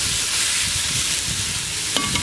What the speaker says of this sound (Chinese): 洋葱和辣椒一起下，来炒一下